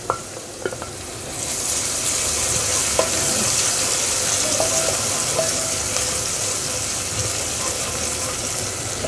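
Onion, garlic and ginger fry in a pan with a steady, close sizzle that swells after a few opening clicks and holds level, with faint stirring knocks scattered throughout.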